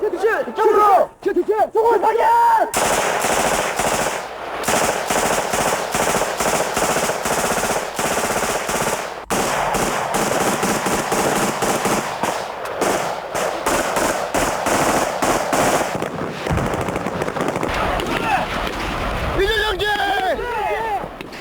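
Automatic rifles fire long, rapid bursts during special forces training, loud and close and sustained for most of the stretch, with shouted voices at the start and end.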